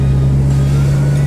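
A Ferrari 458 Speciale with an iPE exhaust drones loud and close with a steady low, strong tone, heard briefly from inside or near the car.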